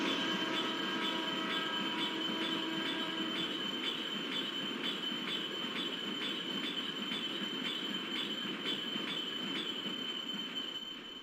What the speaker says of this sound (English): Now we are watching beautiful double crossing of Antyodaya Express and Wagner locomotive which is leading some freight wagons.